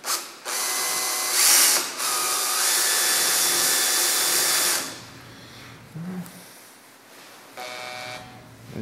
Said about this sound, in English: let's see if a drill will touch it here